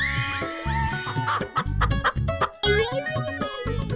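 A rooster clucks loudly and close in a rapid series of short, choppy bursts with a few drawn-out squawks, set against a busy comic backdrop with no talking.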